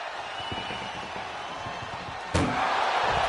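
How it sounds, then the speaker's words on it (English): A heavy ambulance door slams shut in a WWE wrestling video game, one sharp loud bang followed by a roaring crowd that swells right after, with game noise running underneath. "Look at the struggle just to shut that first door."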